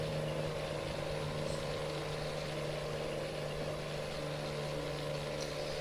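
A truck engine drones in Euro Truck Simulator 2 while driving through hilly countryside, a steady, low, monotonous hum with a faint tonal whine that runs unbroken throughout, with no talking.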